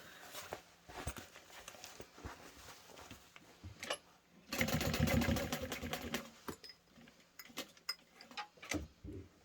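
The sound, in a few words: sewing machine stitching a backpack handle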